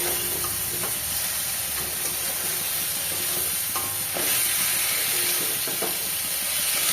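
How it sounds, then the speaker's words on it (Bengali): Winter vegetables dropped into spice paste frying in oil for a tangra fish curry, giving a steady loud sizzle with a few stirring knocks and scrapes throughout, no voices. "এবার এক এক করে আমি সমস্ত শীতকালীন সবজিগুলো দিয়ে দেবো।"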